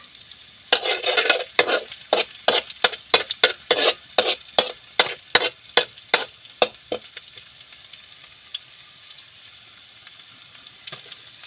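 Pieces of shredded fried fish stirred in hot cooking oil, a series of about fifteen sharp scraping and sizzling strokes in a regular rhythm, close and clear, then tapering off into quiet.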